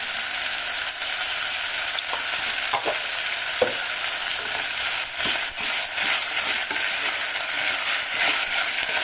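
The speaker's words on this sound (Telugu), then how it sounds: "కొంచెం మంచిగా వేయించాలండి, వేగాలి ఇవి" Cloves and ginger garlic paste frying in a pan, a steady loud sizzle with occasional scraping stirs and clicks, no voices.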